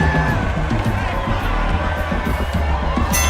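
A capacity crowd roars and cheers continuously at a cage fight just before the opening bell, a dense, loud wall of voices with no break.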